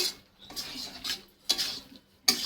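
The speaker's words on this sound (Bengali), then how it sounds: "তরকারিটা হয়ে গেছে, এবার নামিয়ে দেবো। একটু নেড়ে চেড়ে" A finished curry in a pot is stirred with a few bursts of scraping spoon against metal, with brief clinks and short pauses between strokes.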